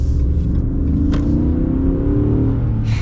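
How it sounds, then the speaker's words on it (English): Engine of a 2024 Ram Power Wagon pickup revving, a loud steady low mechanical roar that holds throughout with slight swells, close by and with no voices over it. "It's a great sounding engine."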